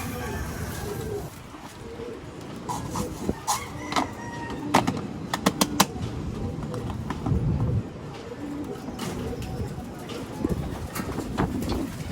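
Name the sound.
birds cooing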